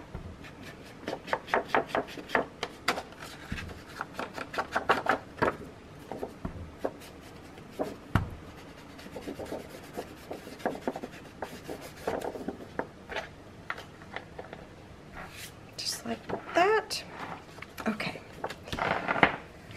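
Distress Oxide walnut stain being applied to paper, with soft irregular rubbing and dabbing strokes and light taps, close and fairly quiet.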